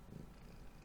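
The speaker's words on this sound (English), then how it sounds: "So you can hear those sweet purrs." A cat purrs softly and close, a low continuous rumbling drone with no other sounds over it.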